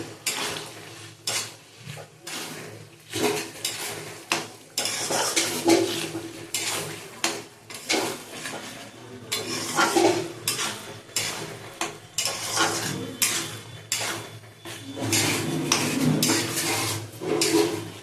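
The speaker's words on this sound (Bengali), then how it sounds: "আদা রসুনের পেস্ট দিয়ে দিলাম।" Ginger-garlic paste is stirred in a cooking pan with a metal utensil, giving repeated scraping and clanking strokes over a faint sizzle, steady and close throughout.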